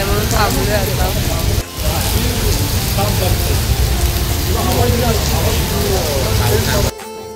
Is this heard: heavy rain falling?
yes